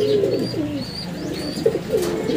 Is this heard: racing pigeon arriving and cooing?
yes